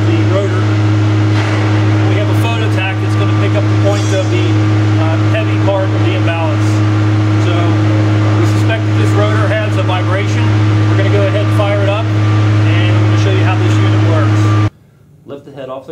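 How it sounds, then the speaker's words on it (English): A Fecon mulcher rotor, fitted with accelerometers, spinning at full operating speed, a loud, steady, close droning hum with strong tonal bands throughout, cutting off abruptly near the end; voices can be heard talking over it. "Engage the rotor and allow it to reach full operating speed."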